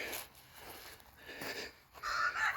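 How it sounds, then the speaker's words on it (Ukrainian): Roosters crow in the distance, several drawn-out calls rising and falling over faint outdoor background noise. "О, півники співають сусідські."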